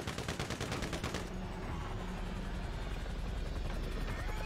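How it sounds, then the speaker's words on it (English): Video game helicopter with a loud rotor thumping in a fast rhythm, then a dense roar of gunfire and explosions that swamps the rotor and stays loud to the end, with no talk. "Gets hit by his own goddamn helicopter propeller."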